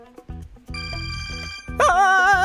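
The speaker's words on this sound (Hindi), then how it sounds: "फोन बज रहा है, बेल नहीं।" A phone ringtone sounds indoors in a Hindi-dubbed drama scene, a string of steady tonal beeps that swells into a louder, warbling melodic ring near the end, close and clear with no speech over it.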